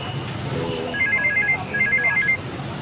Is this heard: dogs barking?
no